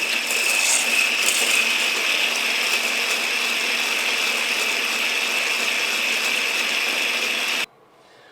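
Eggs and sugar being whisked until pale for a chocolate fondant batter, a steady, dense, fast scraping whir that runs continuously at close range with no talk, then cuts off abruptly near the end.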